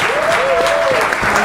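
A studio audience claps loudly for comedian Johnny Lever in a short, dense burst of applause with a few cheers mixed in.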